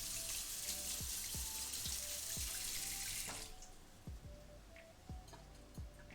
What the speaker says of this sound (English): wash this off real quick.